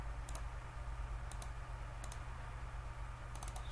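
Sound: computer mouse click

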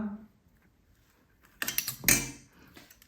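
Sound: small spoon stuffing masala into brinjal

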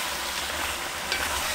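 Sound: stir-frying squid with vegetables in oil

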